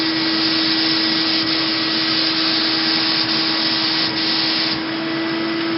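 An airbrush spray tanning gun hisses in a steady, loud, continuous spray with a constant motor hum underneath, held for several seconds without pause.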